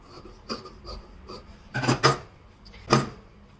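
Scissors cutting velvet fabric for a girl's umbrella-style frock, a few soft rasping snips scattered across the moment, close and fairly quiet with no talking.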